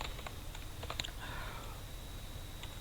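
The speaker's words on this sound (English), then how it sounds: "we'll start typing our document" Keys clatter on a computer keyboard in a quick burst of close typing, then fall mostly quiet, as a LaTeX document is started.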